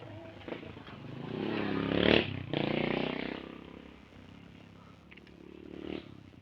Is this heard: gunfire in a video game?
no